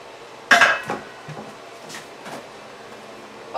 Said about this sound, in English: and Karen is getting the cooling pot ready.